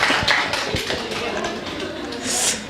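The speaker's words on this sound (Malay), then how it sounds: "Bagi tepukan." Audience clapping at an indoor talk session, a scattered smattering of hand claps with a few sharp individual claps, moderately close, with some voices mixed in.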